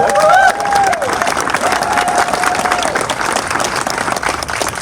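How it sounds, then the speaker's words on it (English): A crowd applauds at an outdoor mural unveiling for the Pokanoket tribe, a sustained, even round of clapping throughout with a faint whistle-like tone near the start. "Nice round of applause."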